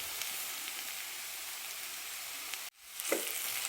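Semolina frying with carrots in a pan over low heat, a steady soft hiss like light rain that cuts out briefly and then resumes with a stirring scrape.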